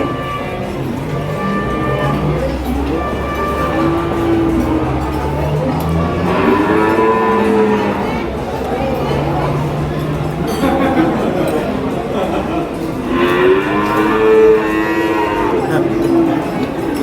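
Cattle at the Ambarketawang animal market in Gamping moo repeatedly, long drawn-out lows rising and falling from several animals at moderate distance, with people talking over them throughout.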